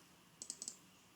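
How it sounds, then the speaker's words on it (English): Four quick, quiet clicks in a short burst, two pairs close together, from a computer mouse or keyboard while working in Revit software, in a near-silent room. "click twice to exit"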